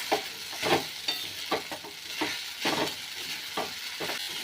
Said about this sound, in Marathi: साबुदाणा ना आपला चांगला असा परतून घेतलाय बघा, जसा चांगला सुट्टा झालाय बघा